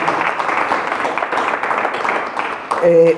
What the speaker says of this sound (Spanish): Pues agradecemos con un fuerte aplauso.